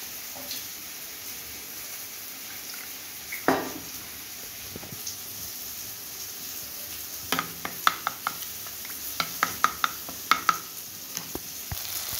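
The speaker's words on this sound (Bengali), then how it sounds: "এই মশলাটাকে আমি এখন জলে মিক্স করে নেব।" Spoon stirring a mix of ground cumin, chilli powder and turmeric with water, giving soft scraping clinks against the bowl; a background sizzle of frying runs throughout, with the taps growing busier in the second half.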